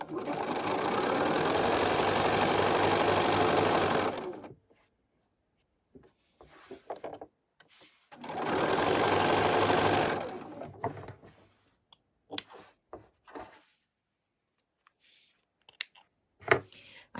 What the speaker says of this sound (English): Now I'm going to go ahead and sew on the other side.